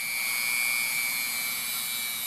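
A pneumatic tool spins a wire brush at very high RPM, giving a steady, whining high-pitched air-driven scream with a hissing edge, close and constant without pauses or voices.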